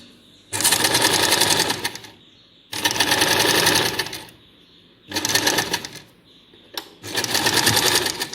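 Close, loud bursts of a sewing machine stitching fabric for a small baby bed, four runs of rapid needle chatter separated by short pauses.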